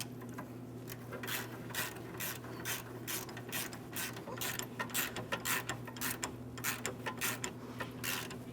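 A hand ratchet snugs up the rear sway bar link nuts on a 2005-2010 Chrysler 300, with quiet, evenly paced bursts of clicking over a low, steady hum.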